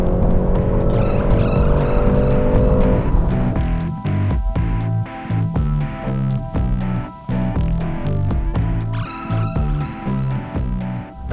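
A BMW 330i driven hard around the Pathum Thani Speedway circuit, its engine loud and revving continuously with rapid gear changes and rhythmic bursts, tires squealing through corners up close.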